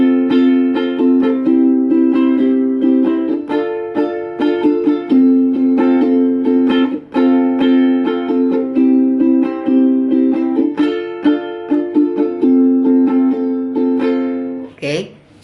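A ukulele strums the interlude of a song, with bright rhythmic chords changing in a steady repeating pattern, close and clear, ending with a final strum.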